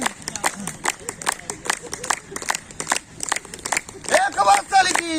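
Crowd of people clapping hands in a quick burst of sharp claps, with voices and cheering mixed in, fairly loud and close.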